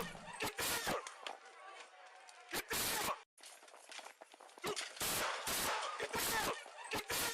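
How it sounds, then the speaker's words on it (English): Police officer's gunshots in a street encounter, several sharp loud bangs in irregular bursts amid rustling and movement, captured close on a body-worn microphone. "Two shots."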